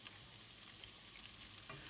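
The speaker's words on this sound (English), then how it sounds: "get the oil so it's nice and warm, so everything starts to sizzle" Steady sizzling of vegetables frying in warm oil for a bean bolognese, a continuous crackling hiss with occasional pops, close and fairly quiet, no voices.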